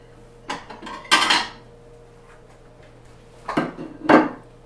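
A plate is grabbed in a home kitchen: a few sharp ceramic clinks and knocks in two separate bursts, close and clear, with quiet gaps between them and no talking.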